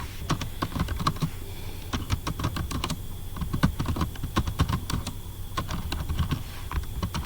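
Keystrokes on a computer keyboard while entering HTML code, a steady run of quick, close clicks with short pauses and no voices.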